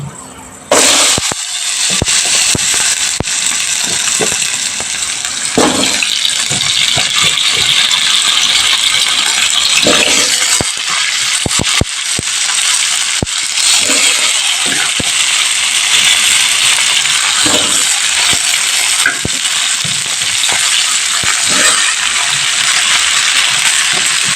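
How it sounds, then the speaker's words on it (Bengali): Pumpkin, eggplant and potato fry in hot oil in a home kitchen, giving a loud, continuous sizzle full of sharp crackles and pops that runs without a break. "এক এক করে সবকটা সবজি আমি ভাজতে দিয়ে দিচ্ছি কুমড়ো বেগুন আলুটা কুমড়ো আর বেগুনটা আমি ভেজে নিচ্ছি"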